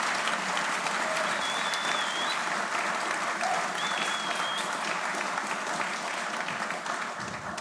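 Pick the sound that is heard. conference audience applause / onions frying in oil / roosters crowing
conference audience applause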